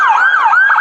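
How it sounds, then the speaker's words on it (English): An ambulance siren wails loud and close, its pitch sweeping up and down in a steady continuous cycle with no talking. "Babbitt was rushed by ambulance to University Medical Center with broken ribs and a collapsed lung"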